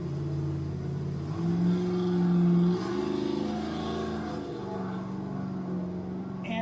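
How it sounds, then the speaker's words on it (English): A car with a big LS V8 and a high-stall torque converter creeps along at crawling speed, its engine giving a steady, deep, lumpy idle rumble with slight swells in revs throughout, close and continuous. "even though I have a high stall torque converter, you can still crawl."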